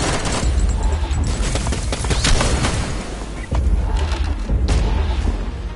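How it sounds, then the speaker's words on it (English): A gun fires nonstop in the VR shooter Sairento, a loud dense stream of rapid shots and booms with a short dip midway before the barrage resumes. "And now my gun won't stop firing."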